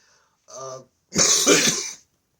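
A single throat-clearing cough, close and fairly loud, comes after a short hum, then silence.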